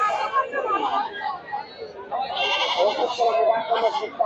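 Goats bleating across a crowded livestock market for local goats, the calls scattered and mid-distance amid a hubbub of people talking and a voice speaking over them.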